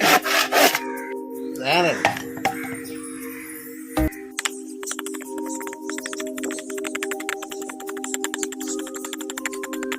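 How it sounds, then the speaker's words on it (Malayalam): A piece of scrap material is cut for a craft, giving a close run of rapid, crisp scraping and rubbing strokes after a few louder initial knocks, steady and fairly loud with no talking. "നമ്മളപ്പോൾ ലാസ്റ്റത്തെ പീസ് കട്ട് ചെയ്യാം."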